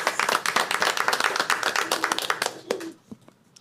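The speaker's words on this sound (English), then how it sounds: "Let's give them a round of applause" Audience at a school board meeting claps for the principal, athletics director, students and coaches, a dense burst of individual hand claps that thins out and fades near the end.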